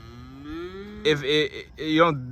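Unweaned calves moo nearby: a low drawn-out bellow rises first, then two loud, harmonic moos follow in quick succession, with no talk over them.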